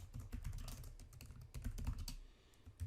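Quick keystrokes on a wireless computer keyboard patter in uneven bursts, with a brief pause near the end before the keys resume, close and fairly soft, with no voices.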